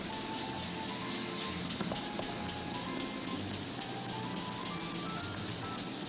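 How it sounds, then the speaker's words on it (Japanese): A car window is polished with a sponge-backed felt pad to lift stubborn water-spot scale, giving a steady, continuous scrubbing and rubbing hiss that runs close and unbroken throughout. "スポンジ付きのフェルトで磨くってことですね"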